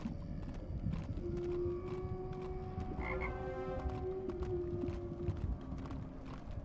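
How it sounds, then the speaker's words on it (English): A frog croaks in the fantasy adventure game Ravenwood Legacy, a few short tonal calls standing out at moderate level over a steady watery ambience with a low background drone. "Frog."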